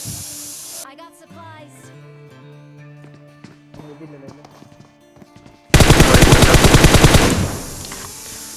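A loud burst of rapid automatic gunfire erupts near the end of a PUBG Mobile video game fight, following a quieter stretch of game ambience and talking.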